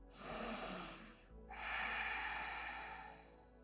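A person takes a deep inhale through the nose during a yoga breathing exercise, two long airy breaths heard close up and soft, with no talking over them.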